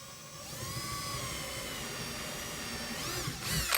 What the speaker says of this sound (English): actually think this center finding drill bit is leading me astray right now.